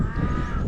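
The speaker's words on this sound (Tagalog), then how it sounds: "Nagalit yung uwak." A crow caws once, harsh and loud at close range, a single drawn-out call lasting under a second over a rumbling background.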